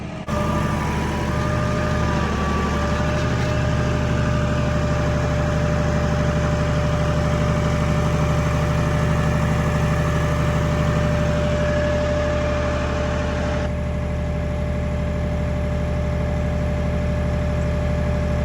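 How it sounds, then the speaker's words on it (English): A farm tractor engine idles steadily and up close, a constant low drone with a fixed hum held throughout. "I know the noise of the tractor is gonna drive a few of you nuts"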